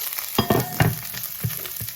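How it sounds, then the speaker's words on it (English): Okra sizzles and crackles steadily in a hot frying pan, with a few louder pops and bursts of spitting oil, close by and with no talking. "sizzling away"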